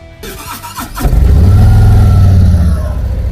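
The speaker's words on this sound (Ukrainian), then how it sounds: "Rodglide – класичний звук Харлі, чиста насолода для подорожей" A 2025 Harley-Davidson Road Glide motorcycle with a 117 engine fires up after a few short cranking pulses, then settles into a loud, deep, rumbling idle close by.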